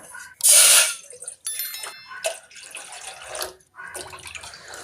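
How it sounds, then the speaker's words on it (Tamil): Three tumblers of water are poured into a cooking pot on a stove for black rice porridge, heard as a loud splashing gush followed by shorter pours and light metallic clinks nearby. "மூணு டம்ளர் தண்ணி விட்டுருக்கேன்"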